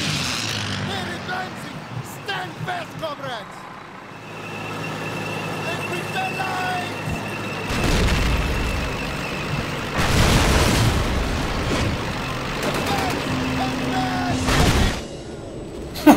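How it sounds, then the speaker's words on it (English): Tank fire and a heavy explosion in the World War II shooter Call of Duty: United Offensive, with broadband booming bursts rising over a rumbling game backdrop, followed by another loud blast and people talking and laughing. "I just love hearing a tank followed by an explosion and laughter."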